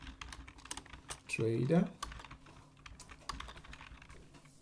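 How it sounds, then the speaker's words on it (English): Computer keyboard typing in a short burst of keystrokes, close and moderately loud, with faint talk and background noise around it. "We will simply type in Precision"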